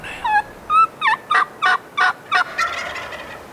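Rio Grande turkey gobblers on a hunt in Oklahoma, giving a close, loud series of about seven rapid gobbling bursts followed by a rattling trailing call.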